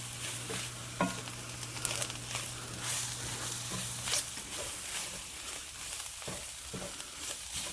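Flour is stirred into hot oil in a frying pan, a faint continuous sizzle with soft scraping strokes of the utensil, quiet and close with a low hum underneath.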